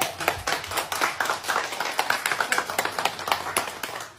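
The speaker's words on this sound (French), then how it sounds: "Famille, applaudissez pour lui." A small group applauds a homemade energy-generating machine prototype during a presentation, quick uneven hand claps rising and falling close by.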